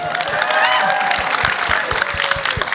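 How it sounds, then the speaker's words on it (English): An audience at a film festival women's panel claps and cheers for an Academy Award nominee, a dense burst of applause with a few voices hollering over it. "You are welcome to clap and hoot and holler, whatever you want."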